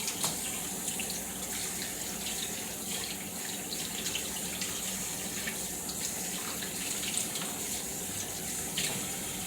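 Tap water running and draining through a kitchen strainer during chicken wing prep, a steady close splashing rush that continues without a break.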